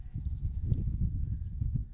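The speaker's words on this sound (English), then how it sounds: "Come on, goaty goats." Goats bleating outdoors, a couple of short nasal calls close by over low rumbling background noise.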